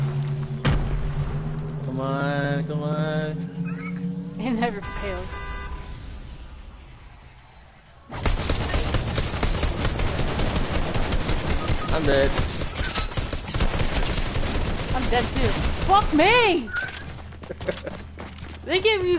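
Rapid video game gunfire erupts in dense bursts, first faint and intermittent under a speaking voice, then a sustained loud barrage of automatic shots from about the middle onward, with music-like tones and talk mixed in.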